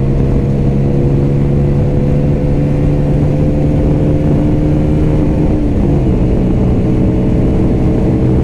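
CMC Buccaneer motorcycle engine droning steadily while being ridden, a loud continuous mid-pitched hum with a slight pitch drop near the end, no talking.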